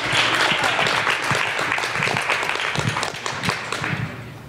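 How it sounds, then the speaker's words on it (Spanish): Applause from parents attending a school talk on parents as teachers, a steady wash of many hands clapping throughout, fairly loud and close, with no talk over it. "De un aplauso, por favor."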